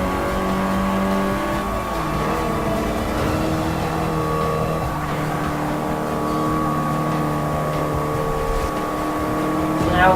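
A heavy racing car's engine in the video game Forza Motorsport 6 drones steadily on a downhill lap, a sustained near tonal whine and hum that holds its pitch with small shifts throughout.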